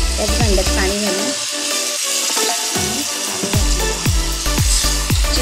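Mutton pieces coated in masala sizzle in a hot pan, with repeated scraping and clanking of a spoon stirring against the vessel in an irregular rhythm.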